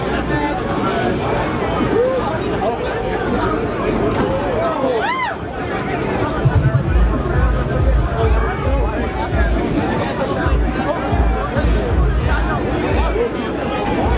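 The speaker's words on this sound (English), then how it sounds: "Crowd cheering for Ripley." Crowd at a Super Smash Bros. Ultimate demo match, a dense steady hubbub of chatter and cheering throughout, with a brief rising whoop near the middle and louder surges afterward.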